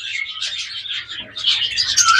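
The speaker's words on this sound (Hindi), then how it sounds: "ये भी लव बर्ड का पियर है," A pair of lovebirds in a breeder aviary chirp steadily, high bright tweets running continuously and close by, growing busier and louder toward the end with no voices.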